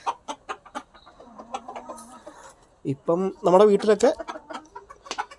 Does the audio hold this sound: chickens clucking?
yes